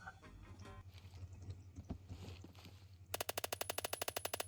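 Rapid automatic fire from a gun fitted with a folding grip in the shooter game Phantom Forces, a fast even burst of sharp shots bursting in at the end after a stretch of quieter game ambience.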